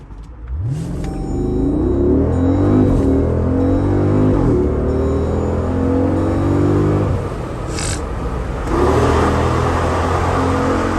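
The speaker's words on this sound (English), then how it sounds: "I haven't launched the SRT in a while." A Jeep SRT launches hard from a standstill, its engine roaring loud and close as revs climb through rising gear pulls, with a brief lift before accelerating again.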